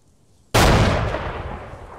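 An Arma 3 tank, already damaged and disabled, suddenly blows up in a single loud, close explosion that bursts in after near silence and rumbles away slowly.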